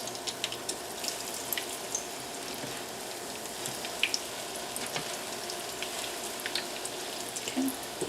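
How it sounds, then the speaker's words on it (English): Zucchini fritters frying in a pan give a steady, fairly quiet crackling sizzle with scattered sharp pops throughout, with no talking. "we're going to let these cook up a few minutes on one side and then we'll flip them"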